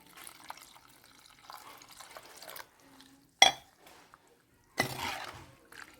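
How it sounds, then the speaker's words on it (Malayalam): Water poured into a pan of prawn curry cooking with mango, coming as a few separate splashing bursts with quiet stretches between them, and one short sharp clink in the middle. "ഇനി ഈ ചെമ്മീൻ പോകാൻ വേണ്ടിയിട്ട് നമുക്ക് ഇതിലേക്ക് വെള്ളം ഒഴിച്ച് കൊടുക്കാം"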